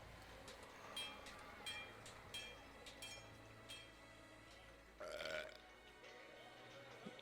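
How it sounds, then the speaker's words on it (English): A loud burp bursts out over a tavern-scene soundscape during a fantasy tabletop role-playing session, a single rough eructation standing out briefly against quieter background effects and distant clatter. "Oh, good burp."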